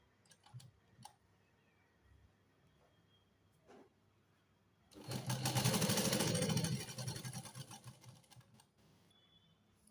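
A sewing machine stitches a kurti in one loud burst of rapid whirring lasting a few seconds, framed by quiet handling clicks and taps before and after.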